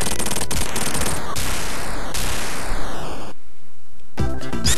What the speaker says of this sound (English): Well, he just lit everything on fire